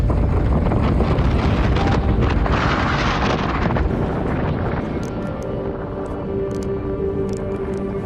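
Strong, continuous high-altitude wind above 9,000 feet on a snowy volcano slope, a loud roaring rush buffeting the microphone that eases slightly partway through.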